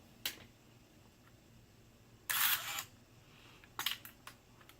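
A Konica FS1 35mm SLR shutter fires on bulb setting, close and alone: a sharp click, a half-second burst of mechanical whirring, then a quick cluster of clicks and snaps as it closes.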